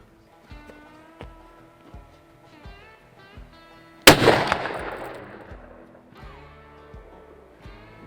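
A single loud rifle shot fired during an outdoor buffalo hunt, cracking sharply and then rolling away in a long fading echo. Quieter rhythmic tonal hits play before and after the shot.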